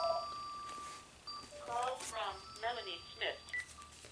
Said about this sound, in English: You'll have to forgive the phone call.